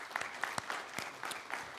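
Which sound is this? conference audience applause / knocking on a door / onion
conference audience applause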